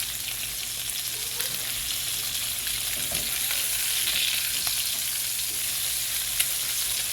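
Eggs fry in a pan after being flipped, a soft, steady crackling sizzle with occasional small pops, fairly quiet and with no talking.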